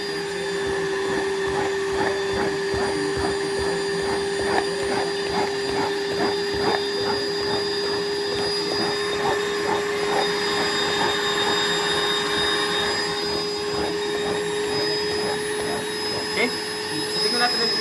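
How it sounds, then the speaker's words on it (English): A Rainbow SRX vacuum cleaner runs continuously with a loud, steady motor whine and airflow roar, close by and unbroken for the whole stretch, with some talk beneath it. "We're going to clean with your dry vacuum"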